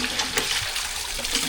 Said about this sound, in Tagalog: Ayan o, lakas ng tubig yan o.